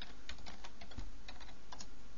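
Someone types on a computer keyboard in a short, quick run of light key clicks, near and fairly quiet over a steady background hiss.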